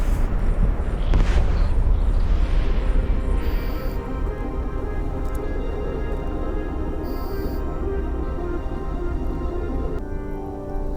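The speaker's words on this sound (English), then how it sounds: "you get to look at all the explosions again if you want" Replayed explosions from the space game Eve Online make a dense, loud, continuous rumble with heavy low booms throughout, layered under game tones and beeps, with no talk.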